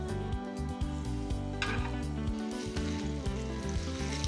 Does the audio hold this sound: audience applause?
no